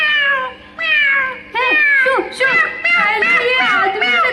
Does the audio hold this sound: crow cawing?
no